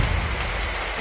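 Heavy rain pours down steadily during an overnight cook of a giant bibingka, a dense, constant hiss of drops hitting surfaces, loud and close with no voices.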